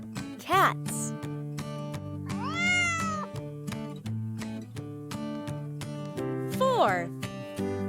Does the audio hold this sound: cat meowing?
yes